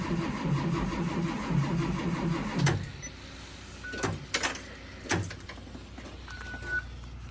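A school bus engine with an exhaust leak rumbles with a rough, pulsing idle for a few seconds on a cold start, then cuts to quieter background with a few knocks and clunks.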